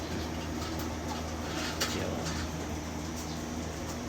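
Pigeons in a loft coo softly against a steady, dense background of rustling and ambient noise, the calls faint and hard to pick out, with no speech.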